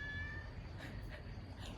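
Domestic cat meowing among a garden colony of cats, brief harmonic meows near the start over a steady low background rumble, with no speech.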